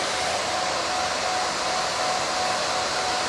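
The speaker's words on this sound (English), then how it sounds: "Ivana said, I have to say the SheMax is not as loud as it sounds in this video." A SheMax pet dryer blows during a grooming session, a loud, steady, broadband rushing roar that holds constant throughout with no talk over it.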